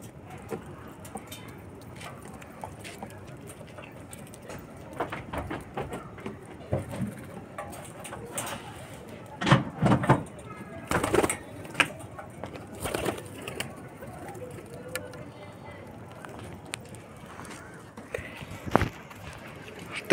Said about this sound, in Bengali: তোমরা দেখো দেখো পায়রাগুলো